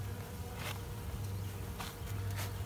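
Honeybees buzzing densely around a hive near the queen, a loud, continuous close-up drone with wing flutters rising and passing.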